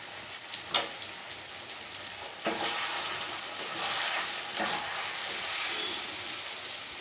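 Mutton kosha cooking: spiced mutton pieces frying in a pan with turmeric, red chili powder, salt and ginger-garlic-cumin paste, giving a steady close sizzle with brief stirring scrapes and a few louder crackles.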